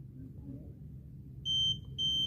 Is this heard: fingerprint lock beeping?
yes